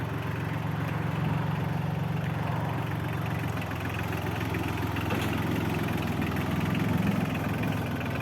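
A tractor engine idles steadily nearby, a continuous low rumbling chug with no voices.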